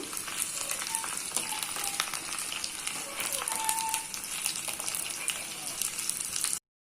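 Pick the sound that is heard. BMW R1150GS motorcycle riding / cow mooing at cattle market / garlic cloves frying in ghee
garlic cloves frying in ghee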